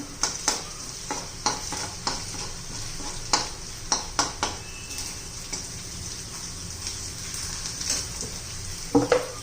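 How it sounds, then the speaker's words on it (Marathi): Curry leaves crackle and sizzle in frying onion for a spicy pea, potato and brinjal bhaji, a steady close hiss broken by sharp spoon clicks against the pan. "कढीपत्ता राहिला होता घालायचा, तो घालून घेऊया"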